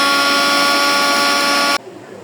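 A kitchen blender grinding green chilies without water, running as a loud, steady high-pitched motor whine that cuts off abruptly near the end, leaving quiet room tone.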